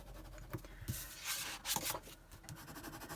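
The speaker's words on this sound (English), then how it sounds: "just grab your bone folder and go over the score marks" A bone folder is rubbed gently over score marks on paper, giving faint, short scraping strokes that are quiet and close, with no talking.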